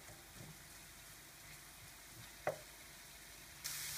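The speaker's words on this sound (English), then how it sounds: "that's sizzling beautifully" Onion and oil sizzle in a frying pan as a steady, faint hiss, with one brief clink partway through and a louder burst of frying near the end.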